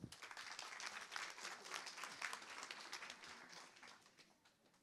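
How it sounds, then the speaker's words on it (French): A conference audience applauds to welcome the opening speaker at the French equestrian federation's Shetland pony congress: dense, steady clapping from many hands in a hall, sustained for several seconds before tapering off. "Je vous demande d'applaudir très chaleureusement Audrey Poupardin."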